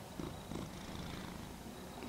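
A pet cat purring steadily and softly at close range, a continuous low rumble lasting about two seconds with no talking.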